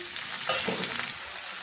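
Steady hiss and sizzle of onion frying in oil in a pan alongside capsicum, with a light stirring scrape, close and continuous.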